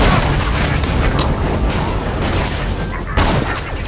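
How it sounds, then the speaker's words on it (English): Loud, dense gunfire and booming blasts fill a Borderlands: The Pre-Sequel firefight, a sustained wall of shots with a sharper burst near the end and no talking. "I'm gonna shoot him in the head."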